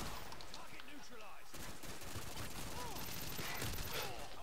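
Rapid gunfire crackles through a Modern Warfare 2 match in dense, continuous bursts, with faint game voices buried in the steady racket.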